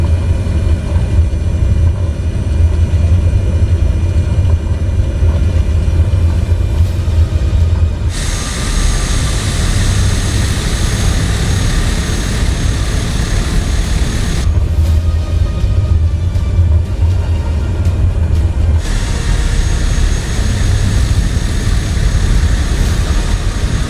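A heavy airliner's takeoff roll down a short runway in Microsoft Flight Simulator, with loud, steady engine roar and rumble that shifts in tone partway through, continuous and close with no talking.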